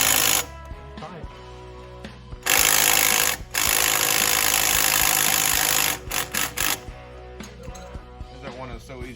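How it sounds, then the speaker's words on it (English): Metallic clicking and ratcheting from a V-band clamp being tightened on a turbo up pipe in a garage, with broadband tool noise in bursts and people talking throughout. "We're tightening up the V-band on the up pipe side."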